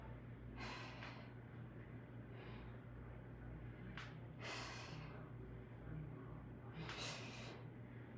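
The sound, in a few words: deep breath during workout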